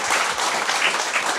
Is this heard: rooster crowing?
no